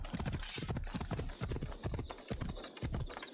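A horse gallops in Assassin's Creed Odyssey, rapid rhythmic clip-clop hoofbeats pounding steadily at close range for the whole stretch.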